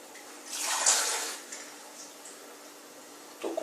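Water poured from a cup into garlic bread dough in a kitchen, a short splashing pour lasting about a second that fades into quiet, with a brief sound at the end and no talking.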